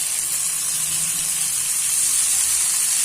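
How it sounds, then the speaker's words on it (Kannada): Tomatoes frying in oil for a fenugreek-leaf (methi) gravy masala give off a steady, bright sizzle with hiss that stays even and close throughout, with no one speaking. "ಚೆನ್ನಾಗಿ ಹುರ್ಕೋಬೇಕು"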